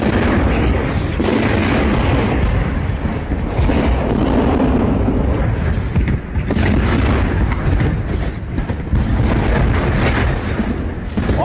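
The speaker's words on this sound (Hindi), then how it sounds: "चेचन लड़ाकों पर यूक्रेन ने बॉम्ब गिराया।" Bomb dropped on Chechen fighters in Bakhmut during wartime fighting, heard as loud, continuous rumbling blasts and booms that fill the whole stretch without pause.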